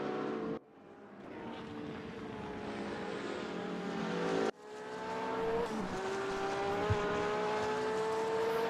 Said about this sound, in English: He's chasing after P10, Hayden, who's driving the GT3R, and there's a back marker in front of them.